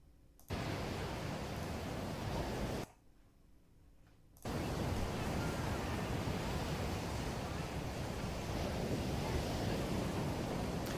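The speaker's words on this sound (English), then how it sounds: "I like the sounds of the Delaware. The Delaware water." Water of the Delaware River rushes as a loud, broad hiss of flowing water and wind, cutting out briefly partway through before returning at full strength.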